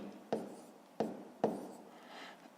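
Pen strokes scratching numbers onto paper during a fifth-grade math exercise, heard as three short, sharp scribbles close to the listener at an uneven pace. The writing is quiet and no voice is heard.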